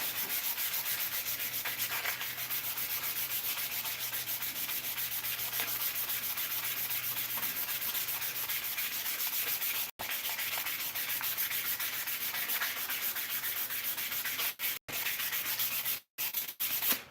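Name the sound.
sanding a handle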